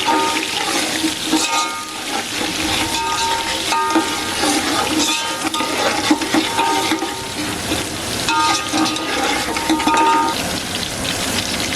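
Ginger paste frying in a pan while cooking kadhi pakora, with a continuous sizzle and crackle, stirring scrapes and clinks of a utensil throughout, close and moderately loud with no voices.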